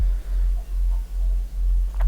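Phase Plant synth sine wave with light noise and distortion added, a steady low hum pulsing in a regular wobble about every half second, with faint hiss above and no talking.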